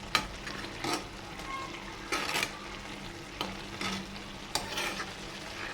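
Chillies and garlic frying in a pan, a steady close sizzle broken by several scraping stirs of a spoon against the pan at irregular intervals.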